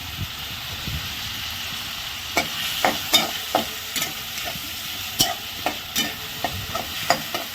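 Onion fries in a little oil for a Marathi shev bhaji, with a low steady sizzle and a series of sharp spoon scrapes and taps against the pan coming in quick bursts, close up and without speech.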